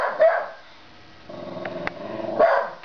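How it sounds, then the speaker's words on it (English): A Bedlington terrier barks at trash, two sharp close barks separated by a low growling rumble, loud and alone. "Make sure to get him to stop barking."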